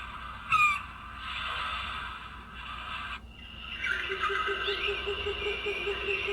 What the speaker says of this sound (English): Rainforest, I guess.